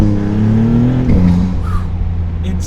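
A Maserati V6 in sport mode accelerates hard, its engine note rising loud and close before a sharp gear change near the middle, then pulling again as the revs build.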